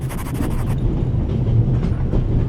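Train in The Raven: Legacy of a Master Thief rumbles loudly and steadily with rhythmic clickety-clack of wheels, close and continuous, with no voices.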